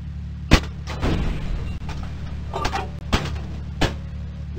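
Artillery fire in the Microprose WWII tank game Across the Rhine: several sharp, loud reports at irregular intervals over a steady low engine rumble, with no one talking.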